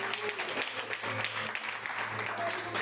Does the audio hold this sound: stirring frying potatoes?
no